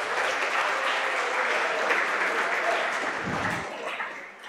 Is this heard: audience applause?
yes